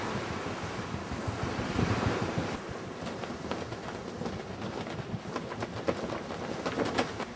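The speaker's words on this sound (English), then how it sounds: "With the more open sea comes a colder and stronger wind." Strong, cold wind buffets the deck of a passenger steamer crossing the open Bristol Channel, with waves rushing and breaking below, a continuous roaring gust noise pressing on the microphone.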